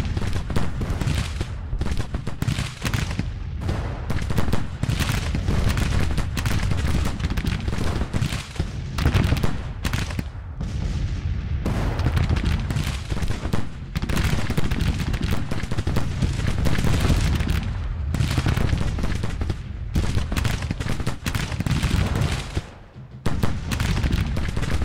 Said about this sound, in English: They must be good rifle guns.